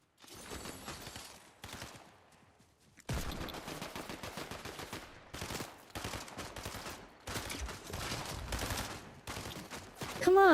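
Gunfire in the video game Fortnite, rapid bursts of automatic shots in several clusters separated by short pauses, close and loud with no talk over them.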